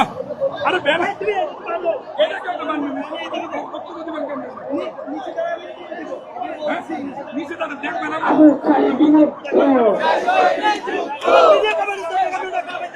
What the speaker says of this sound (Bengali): তারা এখানে বিভিন্ন স্লোগান দিচ্ছেন